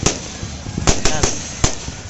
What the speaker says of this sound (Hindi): बम बम फटाका फूटता हुआ